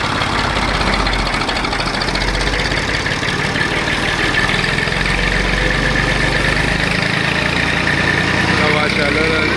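A tractor engine runs steadily and loudly throughout, a continuous low rumble with no breaks, while a strong rushing wind noise sweeps across the microphone.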